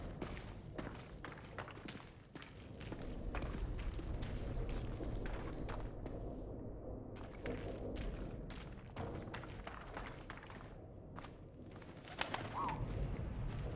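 A pigeon coos in the World War I game 11-11: Memories Retold, soft and partly buried in a busy bed of thumps, clatter and ambient noise.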